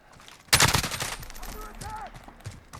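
A burst of HK433C carbine fire in Call of Duty Modern Warfare, a loud rapid volley that trails off into echo, followed by a brief voice-like tone.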